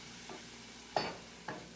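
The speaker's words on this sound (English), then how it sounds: "make sure when you're frying your onions, you don't let them get fully caramelized" Onions fry in a pan, a faint sizzle broken by a few soft stirring scrapes, close by and alone.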